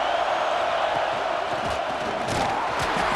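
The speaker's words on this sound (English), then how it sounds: "It's early, but this crowd is fired up. Listen to this noise here." Stadium crowd in a college football video game, Notre Dame home game, a dense continuous roar of cheering fans with scattered whoops and shouts, loud and sustained throughout.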